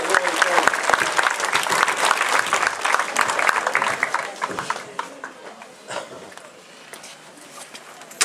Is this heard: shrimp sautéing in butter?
no